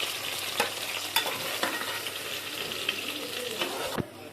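Brinjal fries in hot oil under a continuous crackling sizzle, with a spatula scraping and turning the pieces every second or so before the sound suddenly drops away.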